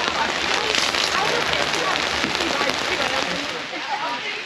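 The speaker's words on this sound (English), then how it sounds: "The rain has really started to come down now." Rain coming down hard on a campsite, a dense steady patter and hiss close by that thins slightly toward the end.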